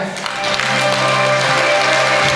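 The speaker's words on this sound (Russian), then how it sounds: "Ваши аплодисменты" At a Khakass song awards ceremony, an audience applauds the Abakan concert orchestra's award with steady, dense clapping that holds at an even level throughout.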